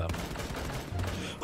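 Gunfire in a team shooter video game, a dense burst of rapid shots close and loud, with players chatting over it.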